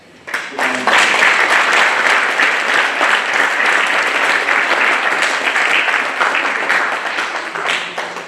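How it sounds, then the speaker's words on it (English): A large audience at a classical dance debut recital bursts into sustained applause, a loud, dense wash of clapping that swells in quickly and holds steady for several seconds before easing off. "I would request a big round of applause."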